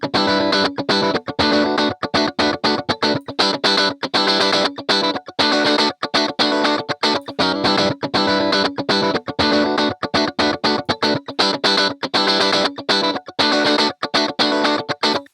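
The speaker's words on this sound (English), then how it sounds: "Listen for that nasally kind of sound in the guitar." Distorted, effect-heavy guitar in a full mastering mix with the EQ bypassed, loud and dense, with choppy rhythmic stops and starts throughout and no talking.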